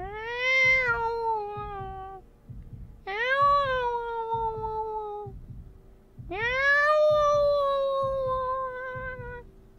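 A person imitates a cat's meow three times, each drawn-out nasal mew close and clear with short pauses between, over a faint low background.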